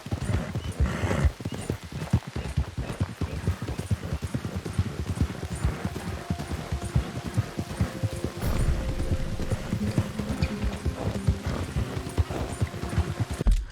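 Horse hooves clip-clop at a steady trot in the video game Red Dead Redemption 2, close and continuous throughout, with a brief whinny and sustained musical tones joining in the second half.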